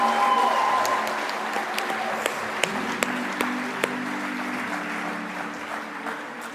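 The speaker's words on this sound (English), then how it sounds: "Let's give them all a massive round of applause," Audience applause at a Tasmanian Australian of the Year awards ceremony, a broad steady wash of clapping through a large hall that gradually thins, with a few sharp louder claps and a voice speaking over it.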